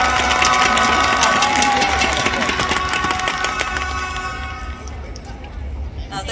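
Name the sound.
audience applause and cheering at a live event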